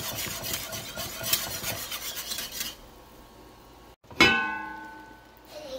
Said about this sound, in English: keep stirring until it thickens up